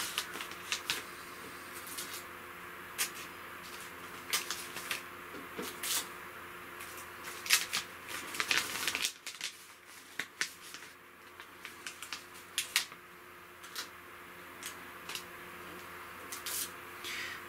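Crispy dehydrated chips dropped and shuffled into a fresh Mylar bag, producing sharp crinkling snaps and rustles scattered irregularly, close up and fairly quiet over a steady low background hum.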